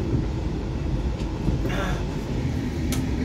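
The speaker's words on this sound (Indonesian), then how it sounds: "Kereta api Lodaya telah tiba di stasiun Kiara Condong sebagai pemberhentian terakhir kereta api Lodaya" The Lodaya economy train arriving at Kiara Condong station in Bandung gives a steady, loud, rumbling roar that fills the whole stretch without a break.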